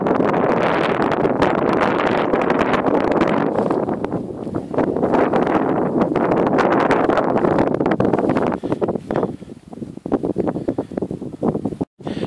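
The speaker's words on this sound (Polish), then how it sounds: "ale strasznie wieje" Strong wind buffets the microphone outdoors on an open field during metal detecting in Yelden, UK, a loud continuous roar with gusty surges that eases briefly near the end.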